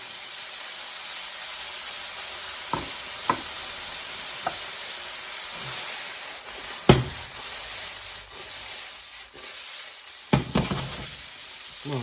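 Kikkoman soy sauce hitting a hot stir fry pan, a continuous sizzle with a few sharp clatters and stirring knocks breaking through, close and fairly loud, no voices.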